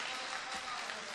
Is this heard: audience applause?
yes